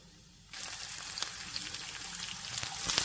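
Garlic and curry leaves drop into hot oil in a pan, where mustard seeds and cumin already sizzle, setting off a sudden loud hiss that carries on steadily.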